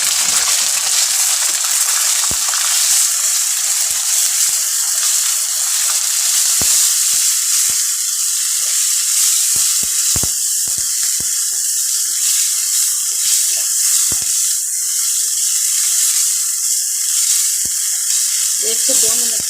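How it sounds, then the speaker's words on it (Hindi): Minced meat (keema) frying with browned onions in a pan gives a loud, continuous hiss and sizzle close by, with faint scraping knocks of stirring now and then. "कीमा डाल देंगे, कीमे को फ्राई करेंगे थोड़ा।"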